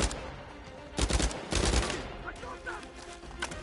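Gunfire in the video game Uncharted 4 comes in a few loud bursts of shots over background game noise, with faint talk underneath.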